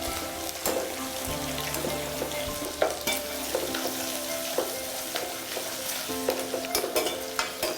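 Garlic, then onions, frying in a pan for chole bhature give a continuous sizzle, broken by frequent scraping and clinking of a spoon stirring. The sound is close and steady with no talking.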